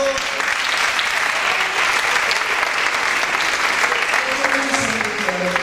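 A crowd at an award ceremony for a Galician-language comedy monologue contest claps in steady, dense applause from start to finish, with faint voices mixed in.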